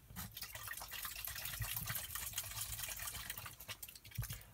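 A can of Fanta Blood Orange jelly drink is shaken hard, giving a continuous close sloshing, splashing rattle with uneven surges for several seconds and no talking.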